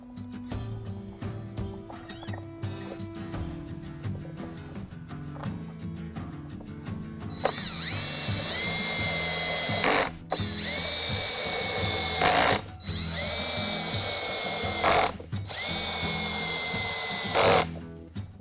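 A power tool drives four factory screws into the holes of a Bronco spare tire carrier relocation bracket. After quiet mechanical handling it gives four loud, close whirring bursts, each about two seconds long, separated by brief pauses.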